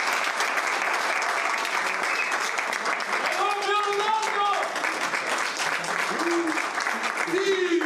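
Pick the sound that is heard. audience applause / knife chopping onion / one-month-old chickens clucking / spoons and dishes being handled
audience applause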